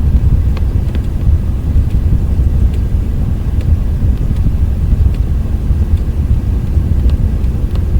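Airliner, a 737, rolling for takeoff in a flight simulator game, with a loud, steady low engine rumble and roar throughout and faint ticking above it.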